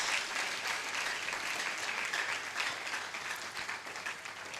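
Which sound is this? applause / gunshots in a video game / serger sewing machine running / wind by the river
applause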